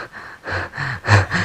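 Heavy breathing and panting, four loud, close rhythmic breaths in quick succession with snort-like rasps, alone without talk.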